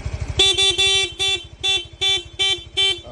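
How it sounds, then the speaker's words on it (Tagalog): A stock motorcycle horn on a Yamaha Mio i125 honks in a series of short bursts of varying length, loud and close, over the low putter of an idling engine. "So, dual horn setup, stock horn selector."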